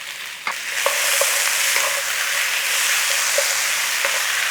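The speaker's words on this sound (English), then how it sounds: "Back in there with that beef and any juices." Beef goes back into a hot pan with its juices for a quick stir-fry, producing a strong, even hiss with scattered clicks and scrapes of a utensil stirring throughout.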